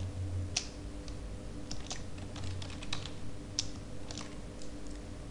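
Fingers typing a variable name on a computer keyboard, a steady run of light, close key clicks with a faint low hum underneath and no speech.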